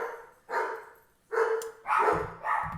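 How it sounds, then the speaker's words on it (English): A dog barks excitedly indoors at someone in the backyard, giving four loud, close barks in an uneven series with short gaps between them. "That's my dog freaking out."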